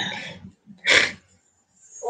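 A single short, sharp sneeze, close by, with faint breathing sounds just before and after.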